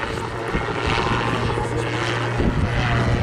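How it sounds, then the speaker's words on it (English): An autogyro flies at Southport Airshow, a loud continuous propeller and engine drone close by with a steady low hum that shifts in pitch near the end. "Just hear more aircraft coming up, checking in with us"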